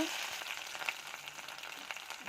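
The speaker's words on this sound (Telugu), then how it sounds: "ఇప్పుడే మగ్గుతుంది పచ్చిమిర్చి ఉల్లిగడ్డ" Green chillies and chopped onions frying in a pan for sorghum pongal, giving a faint, steady sizzle with light crackles and occasional stirring scrapes, no voices.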